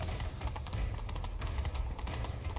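Hooves gallop in The Witcher 3, a steady, rapid clip-clop rhythm of a horse at full pace that runs continuously throughout at moderate loudness.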